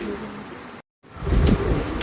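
Pigeons, a pair of Mundian birds in a farm cage, coo in low soft murmurs, broken by a short silent gap before the cooing swells again, close and moderately loud.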